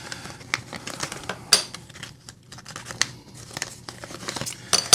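Scissors snipping and tearing through the top of the plastic packaging holding aftermarket scales for a Spyderco Lil' Native knife, a busy run of close crinkling cuts and rustles with sharper snaps scattered throughout.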